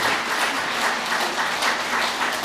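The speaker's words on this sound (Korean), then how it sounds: "이럴 때 박수를 좀 쳐야 되는 거 아니야?" Listeners clap at a Buddhist monk's lecture, a brief burst of dense, even applause from a seated crowd, close and fairly loud, with no talk over it.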